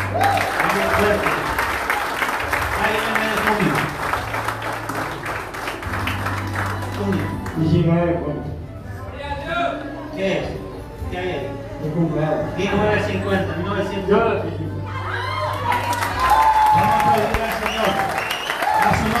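Congregation at a church sermon clapping loudly for God, a dense sustained applause over music and a preacher's voice, dipping in the middle and building again toward the end.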